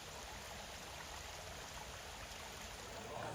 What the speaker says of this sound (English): this is the wee Glengoyne waterfall